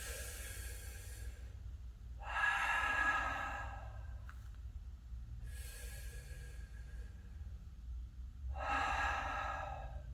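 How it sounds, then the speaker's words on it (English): Slow, deep breaths during a taekwondo exercise session come in four long, airy inhales and exhales, evenly spaced and close, over a low steady background hum. "Take some really nice deep breaths here."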